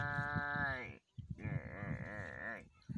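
A voice imitates a young buffalo calf crying out: two drawn-out, wavering bleating moos, the first rising then cut off, a short pause, then a longer quavering call, close and loud.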